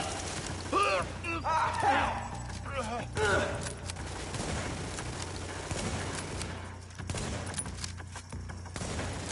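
Bursts of gunfire in The Division video game crackle near and loud in the first few seconds, then thin into scattered shots and mechanical clatter under a steady background hum.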